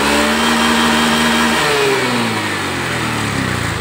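A Honda Beat FI scooter engine revs loudly up close after repair, its pitch climbing and then falling back toward idle.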